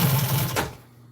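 Sewing machine hemming a fabric edge for custom truck storage, a brief close mechanical whir with a rapid rattling stitch that stops after under a second.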